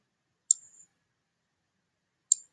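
Two crisp computer mouse clicks, spaced about two seconds apart, each sharp and close, with near silence between them.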